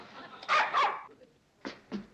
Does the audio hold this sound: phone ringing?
no